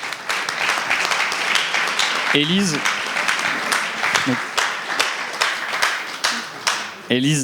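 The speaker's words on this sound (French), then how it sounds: "on a toujours les applaudissements" Audience members at a round table with deputies and healthcare workers clap in a dense, sustained round of applause that lasts several seconds, while a voice speaks over it briefly.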